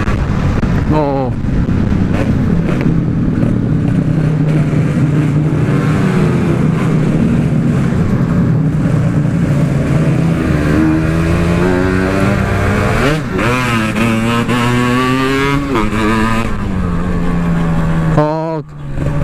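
A Yamaha RX King motorcycle engine revs loud and close, its pitch climbing and falling through repeated throttle blips over buffeting wind noise.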